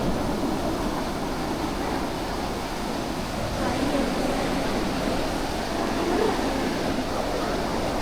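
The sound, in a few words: ocean waves on a beach in Kelantan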